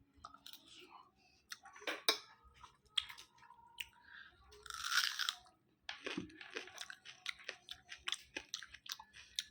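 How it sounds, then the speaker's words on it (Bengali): Someone eats hot fried fish up close, with repeated crisp crunches and wet chewing in uneven bursts, faint overall, with soft murmured speech between bites. "আর গরম গরম মাছ ভাজা দিলাম, মাছ ভাজা খা"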